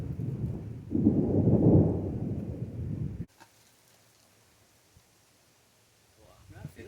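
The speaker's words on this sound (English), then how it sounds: "That thunder's pretty far away." Distant thunder from a lightning storm rolls as a low, swelling rumble for a couple of seconds, then cuts to near quiet with faint rain-like rustle before a soft rise at the end.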